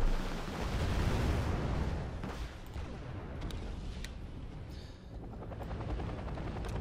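A Mi-28 helicopter goes down in the Wargame Red Dragon video game, a broad rumbling roar of rotor noise and explosions with scattered sharp cracks of gunfire, fairly faint and continuous.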